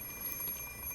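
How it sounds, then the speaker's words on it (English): An alarm clock rings in the Fate/Stay Night visual novel game, a thin high electronic beeping that pulses steadily through the whole short moment over a faint background hum. "I stare at the alarm clock for several seconds."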